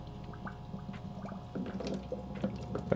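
Algae culture bubbling in water, giving a faint, steady run of small liquid pops and trickles that grows a little busier toward the end, with no voices.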